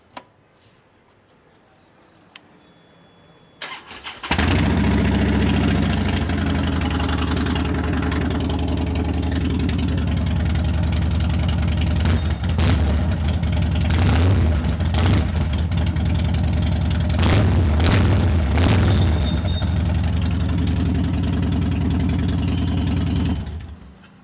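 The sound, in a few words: motorcycle engine idling and revving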